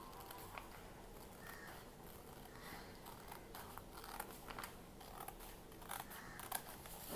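Scissors snip through starched cloth in faint, close, irregular cuts, small crisp clicks rising over a quiet background.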